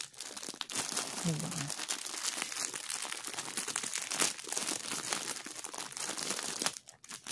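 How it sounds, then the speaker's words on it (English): Plastic packaging around ice yarn skeins crinkles and crackles steadily and close up throughout, with a person speaking briefly over it. "Sorry for the crinkling"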